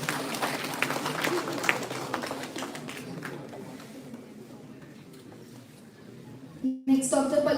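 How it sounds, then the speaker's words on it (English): An audience at an international conference applauds: dense clapping fills the room at first, then thins and fades, with a voice and a brief rustle near the end. "Please keep applauding."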